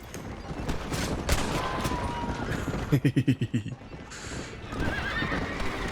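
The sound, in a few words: gunfire in the video game Red Dead Redemption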